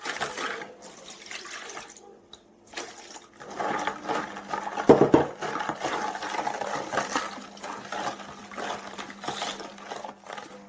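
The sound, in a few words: liquid poured into dough mixture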